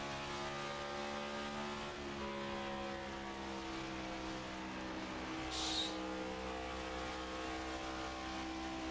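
Race car engines in a sim racing video game, a continuous layered drone of several cars holding steady pitch, with a brief hiss partway through.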